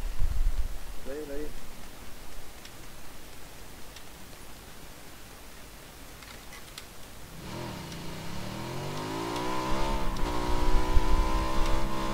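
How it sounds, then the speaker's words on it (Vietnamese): A motorbike engine revs up in the second half, its rising whine growing louder, following a stretch of noisy background; people talk throughout. "Đây xe máy này, xe máy này, xe máy này."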